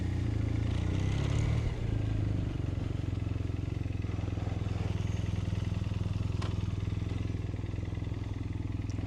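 A BMW R1250RS motorcycle engine, 145 horsepower, runs steadily at close range with a low, throbbing rumble, briefly louder at the start before settling into an even idle.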